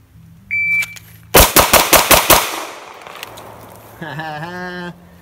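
A Glock pistol fires six rapid shots in a tight, loud string, each crack ringing into a decaying echo, preceded by a brief electronic beep and followed by a second, longer warbling beep tone.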